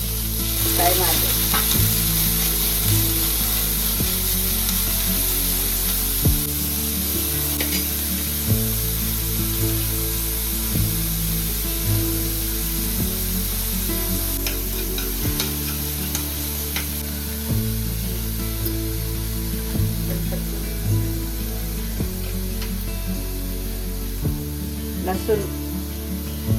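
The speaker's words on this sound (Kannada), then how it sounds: "ಫ್ರೈ ಮಾಡಬೇಕು." Finely chopped onions frying in a pan for homemade palak paneer, a strong, steady sizzle with scraping stir strokes throughout, over a low musical backdrop.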